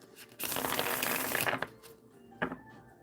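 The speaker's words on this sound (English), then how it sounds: "I love how this deck shuffles." A deck of cards shuffles in a crisp, close riffle lasting about a second, followed by a short tap of the cards settling.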